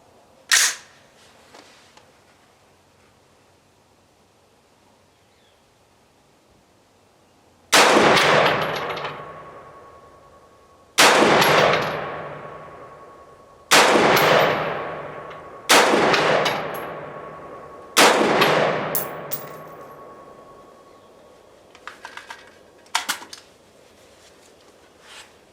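A Radical Firearms RF-15 rifle fires Czechoslovakian 55-grain ammunition at a range, with five loud, sharp shots a few seconds apart, each with a short ringing decay, followed by faint clinks.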